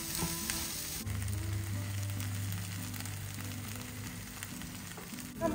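Sliced okra sautés with chili powder and turmeric for a thoraN, giving a quiet, continuous frying sizzle under a steady background tone, with a louder clatter right at the end; no voices.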